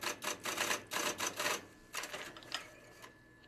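A punched card machine duplicates and feeds cards with fast rattling bursts of mechanical clatter. The bursts come in a quick series, then thin out into a few isolated clicks.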